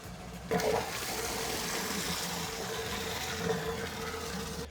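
Water rushes steadily out of the drain of a 6-year-old water heater tank through a sediment buster tool, a continuous broadband gush that surges briefly at the start and holds nearly level to the end.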